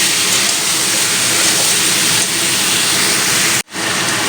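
Ground spices fried with a splash of water in a pan give a loud, continuous hissing sizzle that holds steady throughout, briefly dipping near the end.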